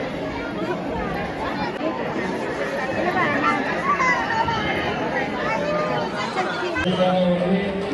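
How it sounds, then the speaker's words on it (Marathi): Dense crowd of pilgrims packed outside Tuljapur temple, a steady close hubbub of many overlapping voices and shuffling with no pauses throughout. "गर्दी बघा काही गर्दी किती आहे बघा"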